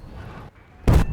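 Bombs dropped from an F-16 in a combat flight game strike ground targets, a single sudden loud blast that bursts in after a quiet stretch under low engine rumble.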